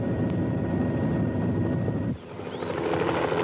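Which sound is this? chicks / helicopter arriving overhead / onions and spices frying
helicopter arriving overhead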